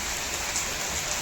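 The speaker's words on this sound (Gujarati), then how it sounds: "આજે તો એટલો બધો વરસાદ ચાલુ હોય" Heavy rain falls in a dense, steady hiss of drops hitting surfaces, loud and continuous for the whole short stretch, with no voices.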